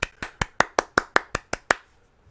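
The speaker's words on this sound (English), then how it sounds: "Golf clap." Ten slow, evenly spaced hand claps, crisp and close, form a sarcastic golf clap that ends in quiet.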